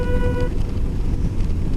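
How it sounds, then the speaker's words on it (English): A motorcycle horn sounds as one short, loud, steady toot lasting about half a second, over heavy wind rush and riding noise while descending a hill near Austin, Nevada. "Maybe it picks up the horn."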